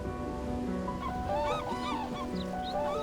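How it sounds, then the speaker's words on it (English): A black-necked crane, an alpine crane of high Tibetan lakes, calls in a series of honking, bugling notes over a steady outdoor background hum, moderately distant. "The majestic black-necked crane, the only alpine crane in the world"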